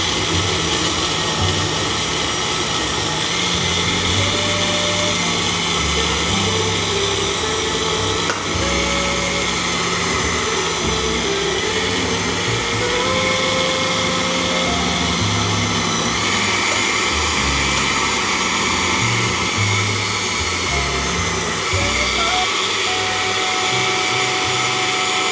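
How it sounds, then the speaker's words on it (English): An electric blender whirs steadily while mixing pancake batter, a loud continuous motor drone that holds close and unbroken for the whole stretch. "Blend everything together until smooth."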